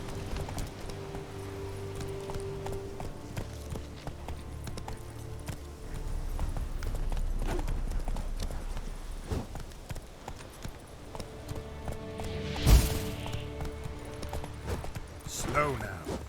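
Hoofbeats of a galloping horse in The Witcher 3 form a rhythmic, fairly quiet clip-clop over an ambient game backdrop, with a sharper louder hit near the end.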